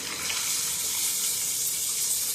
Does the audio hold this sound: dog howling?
no